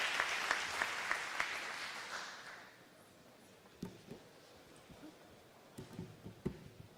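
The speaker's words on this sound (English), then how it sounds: "Big round of applause." An audience at a constitutional convention gives a round of applause, with dense clapping that is moderately loud at first and fades after about three seconds. Then only scattered faint claps and light knocks remain.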